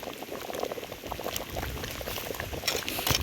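A pot of sweetened liquid bubbles at a steady rolling boil while cooking, with oil and sugar added, near and continuous with dense crackling bubbles throughout.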